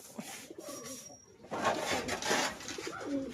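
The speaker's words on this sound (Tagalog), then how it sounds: "Ayun na, pababa na itong mga kalapate natin." Pigeons coming down to land, soft cooing mixed with wing flutter and faint outdoor noise, fairly quiet and close.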